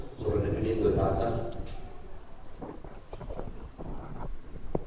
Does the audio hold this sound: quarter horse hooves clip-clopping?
yes